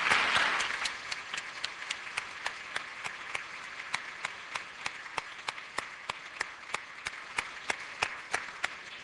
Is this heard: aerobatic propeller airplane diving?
no